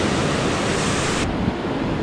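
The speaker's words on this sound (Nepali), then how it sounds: "यो चाहिँ सिसुवा खोला" Flowing water of the Sisuwa river, a dense, steady rushing roar close by for about two seconds with no pauses.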